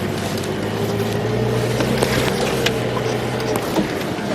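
Safari vehicle creeping slowly along a bush road in an African game reserve in low gear, a steady low engine drone with faint rattles and scrapes, close and continuous with no revving.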